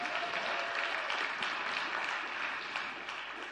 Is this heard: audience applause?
yes